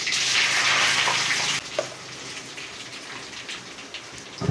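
Dried red chillies frying in hot oil with mustard seeds and cumin, a loud dense sizzle that drops suddenly to a softer crackle with scattered pops.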